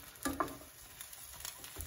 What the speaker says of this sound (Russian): И жарим.